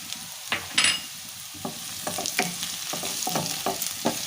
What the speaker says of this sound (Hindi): इसमें फ्राई होने देते हैं ज़ीरे को।